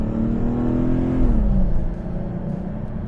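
A 1991 Chrysler Imperial engine hums steadily while driving, a loud, smooth low drone whose pitch dips as the car eases off, with no voices over it.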